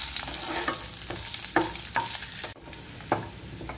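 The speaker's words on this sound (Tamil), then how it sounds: "கூட கொஞ்சம் திராட்சை சேர்த்துக்கலாம் சேர்த்துட்டு ரெண்டையும் நல்லா வறுத்து எடுத்துக்குவோம்" Cashews and raisins frying in ghee for a semolina halwa, a steady close sizzle broken by repeated spoon scrapes and stirs against the pan, with no voice.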